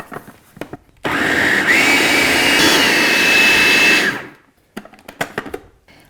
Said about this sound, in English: we're going to put on our lid and just blend this on high until it is smooth and creamy